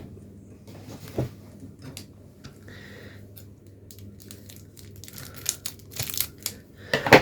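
A card pack wrapper being sliced open with a knife: crinkly plastic crackles and small tearing bursts that grow louder and more frequent toward the end, set against a quiet room hum.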